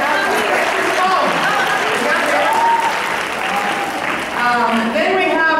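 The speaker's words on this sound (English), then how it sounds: "give her a round of applause" A graduation-ceremony audience claps for staff at a beauty careers school, loud sustained applause with a speaking voice running over it through most of the stretch.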